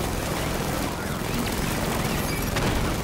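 Gunfire in the Batman Arkham Knight video game comes as a dense, loud, crackling barrage of rapid shots that rolls on without pause for a few seconds.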